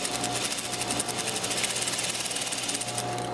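A sewing machine stitches apron fabric at a 1/4-inch seam allowance, giving a rapid, even mechanical chatter of needle strokes that runs continuously and close by, with no talk.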